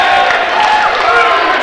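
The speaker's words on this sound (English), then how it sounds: "people are now clapping for Bonzi Warrior" Crowd at an independent wrestling show clapping and cheering for a wrestler, a dense, steady wash of applause and crowd noise with voices mixed in.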